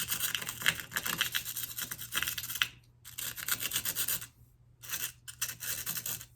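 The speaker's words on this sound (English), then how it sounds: "You'll take a smaller piece of sandpaper and lightly buff the top of the seed." Sandpaper lightly buffs the tops of small wild lupine seeds, a close, dry rasping rub in steady strokes, broken by two brief pauses, with no talk.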